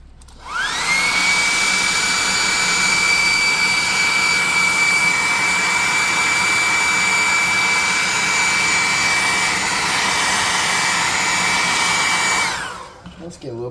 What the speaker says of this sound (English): let's dry it off with a hot air gun